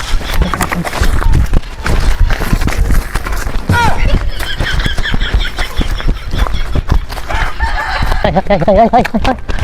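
Chickens cluck and a rooster calls amid lively talking voices, with scattered knocks and clatter throughout.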